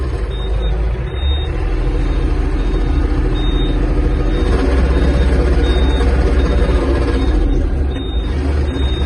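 A Yanmar EG-230 Japanese mini tractor reversing, its engine droning loud and close with a continuous low rumble, while repeated short reversing-style beeps sound over it.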